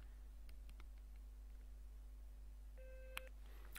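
A Star Trek Bluetooth commbadge powers on with a short electronic chirp and a bright chime near the end, faint against low background hum and a few small clicks.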